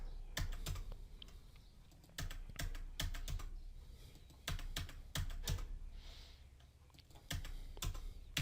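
Keys clatter on a computer keyboard while someone edits a document in MS Word, with bursts of quick taps broken by short pauses and a few heavier strikes, close and clear with no talking.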